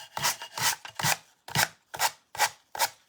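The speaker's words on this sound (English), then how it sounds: "I'm going to take my sanding sponge" Sanding a wooden Santa boot craft piece with a sanding sponge: close, soft rasping strokes in a back-and-forth rhythm, about seven or eight quick rubs with short pauses.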